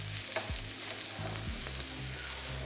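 Broccoli hits a hot pan of lightly fried onion and garlic with a steady, close sizzle, broken by a few scraping stirs of a spatula and a low background hum.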